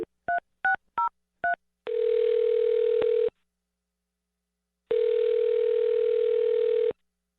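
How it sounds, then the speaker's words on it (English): Several quick touch-tone beeps of a number being dialed, then a steady telephone tone that cuts off, pauses, and returns for a couple of seconds. "I'm going to dial her phone number right now."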